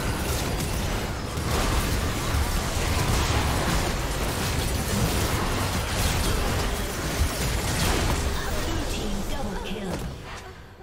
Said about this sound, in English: Team's turret is being destroyed.